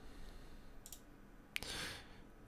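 Computer mouse clicks while a website is being built, a few faint, sharp clicks in a quiet room, with a short soft rustle after the last one.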